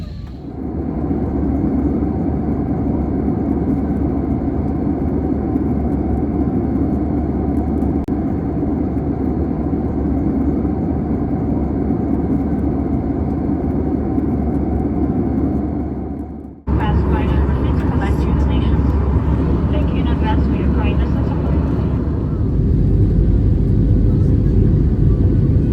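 A steady, loud low rumble of airliner engines fills the cabin on a flight out of Moscow, constant throughout with a sudden shift in tone partway through, and a voice talking over it.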